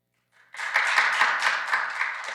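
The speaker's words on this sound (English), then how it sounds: "Don't you like that rousing round of applause I get from all 8 people here?" A small audience of about eight people at a Rotary club meeting breaks into applause after a brief lead-in, with close, distinct hand claps blending into a steady patter that slowly tapers off.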